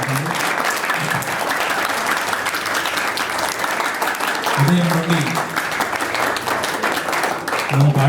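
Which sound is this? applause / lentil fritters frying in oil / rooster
applause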